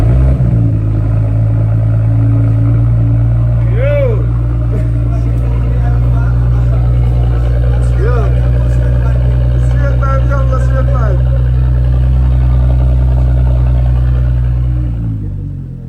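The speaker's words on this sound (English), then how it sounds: "I'm gonna do a start, like a straight pipe start with the exhaust cut and pull in the middle" An Audi Q7 V6 idles with a straight-pipe exhaust cut open in the middle, a loud, continuous deep rumble held close to the microphone, with a few brief rev blips partway through before it fades at the end.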